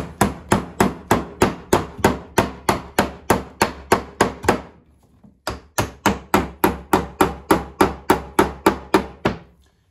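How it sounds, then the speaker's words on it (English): Hammer tapping nails into a wall stud during a mobile home bedroom renovation, a steady run of sharp, evenly spaced close strikes with a brief pause midway before the rapid blows resume. "Grab a hammer and tap your nails in."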